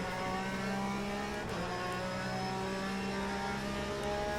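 Race car engine in the sim game Le Mans Ultimate, a steady loud mid-pitched drone with harmonic whine held through, with a brief shift around mid-clip while racing against AI cars.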